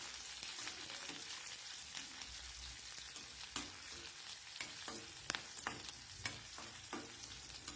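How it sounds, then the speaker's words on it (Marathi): Green chillies and garlic frying in hot oil for an okra dish, a soft steady sizzle with scattered crackles and scraping stirs, quiet and close, no voices. "लसूण टाकून झालं की आपल्याला मिरच्या पण हिरव्या तेलावर सोडून द्यायच्यात आणि हे मिरच्या आणि लसूण"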